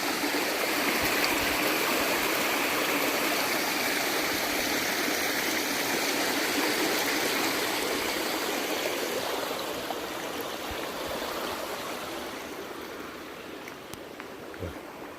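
A creek flows across a hiking trail on the Shady Lake Trail, a steady, full rush of running water close by for the whole stretch, easing slightly toward the end.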